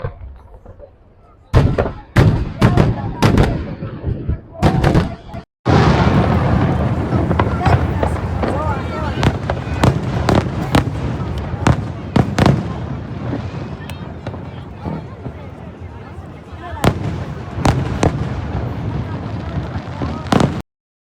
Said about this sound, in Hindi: मस्त पटाखे।